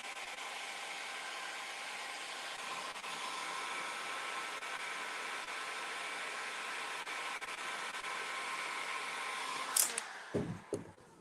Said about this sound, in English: I'm not going to burn myself on my heat gun.